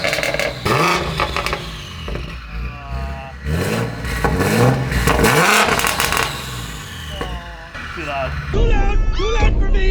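BMW F90 M5 fitted with recirculated wastegates and a 3.5 inch straight-back exhaust, revving loudly in repeated bursts up and down, close to the microphone, with people talking over and between the revs.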